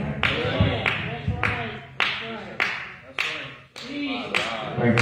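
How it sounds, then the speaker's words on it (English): At a Sunday worship service, a church congregation claps in a steady rhythm of sharp, roomy hits, about two per second, under a preacher's continuous talking. "Thank you for the clap."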